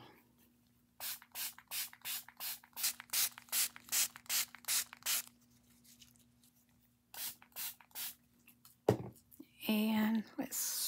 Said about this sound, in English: And let's spritz this